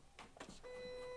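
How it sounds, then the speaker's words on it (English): A home printer running a print-then-cut paper doll sheet: a few soft mechanical clicks and feed movements, then a steady whirring hum as it prints, faint and close. "That's going to print on my printer over there."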